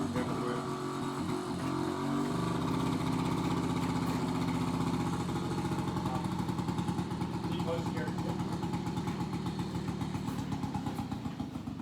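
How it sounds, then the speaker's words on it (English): A lawn mower running outside a garage keeps up a steady, loud engine drone with a throbbing low pulse throughout, while someone talks nearby over it. "Sorry, it's going to get a bit noisy. My wife's doing the lawns."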